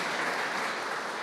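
A church congregation applauds during a worship service, a dense, even wash of clapping from many hands sounding moderately loud and continuous for a brief moment, with no one speaking over it.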